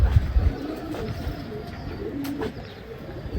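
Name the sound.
pigeons cooing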